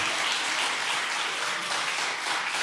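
A church congregation at a Sunday afternoon service claps together in a brief, full burst of steady applause.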